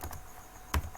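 A handful of quiet computer keyboard keystrokes tap out with soft clicks and small gaps, one slightly louder key press near the end, in a quiet room.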